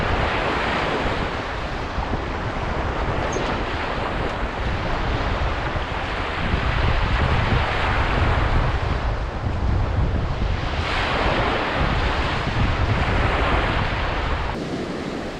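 Ocean surf breaks continuously on a beach at Nome, Alaska, a loud steady wash of waves with heavy wind rumble buffeting the microphone throughout; no voices.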